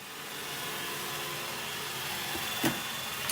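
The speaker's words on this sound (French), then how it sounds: "il y a mon aspirateur robot qui a décidé tout d'un coup de venir faire le ménage là à côté de moi" A robot vacuum cleaner running nearby indoors gives a steady, broad whirring hum, with a brief bump near the end.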